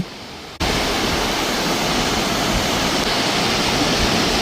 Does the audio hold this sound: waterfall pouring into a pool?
yes